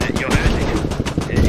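Squad armoured-vehicle gunfire: dense, continuous bursts of automatic fire that rattle loud and close for the whole stretch, with a voice speaking underneath.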